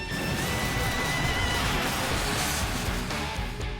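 A horse neighs loudly in the video game Langrisser I, a continuous, full whinny that holds for several seconds at a steady level with no speech over it.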